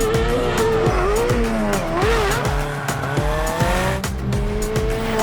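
Loud engine revving and shifting up and down with tire squeals, a car with a 5-litre Coyote V8 of about 380 horsepower driven hard on a race track at close range, continuous throughout.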